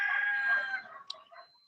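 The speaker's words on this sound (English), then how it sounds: "Now you'll hear the roosters." Rooster crowing, one drawn-out crow fading into a faint call and a brief squawk, heard at a moderate distance against an otherwise quiet background.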